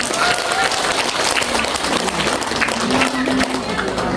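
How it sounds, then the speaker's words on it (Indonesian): Steady applause from a crowd at a junior high school graduation ceremony, a dense continuous patter of clapping filling the whole stretch, fairly loud. "beri tepuk tangan dulu untuk Asyifa"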